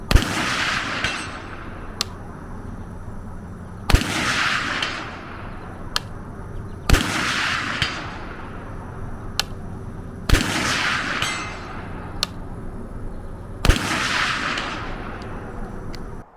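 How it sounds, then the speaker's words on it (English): Rifle shots fired during testing of a Shepherd Optics ROGUE 1-8x24 scope, five loud sharp reports spaced about three seconds apart, each with a rolling echo tail, plus fainter distant cracks between them. "I've been able to put several hundred rounds through this optic today"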